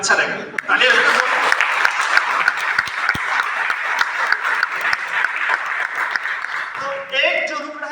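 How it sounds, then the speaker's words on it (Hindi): Audience applause at a Nutrilite product launch, a sustained burst of clapping from a crowd with a few chuckles, tapering near the end as a voice returns. "तालियां बजाओ"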